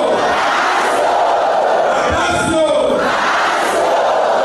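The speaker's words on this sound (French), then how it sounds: "Ces cris de joie et autres acclamations proviennent du plus profond du cœur des fidèles chrétiens" A church congregation cheers and shouts with joy, a loud, dense crowd roar that stays steady throughout with overlapping voices.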